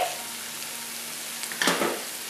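Garlic sizzles steadily in hot oil with softened onion in a pan for Arabic Bukhari rice. A constant close hiss runs throughout, with a brief louder burst of crackle and clatter near the end as it is stirred.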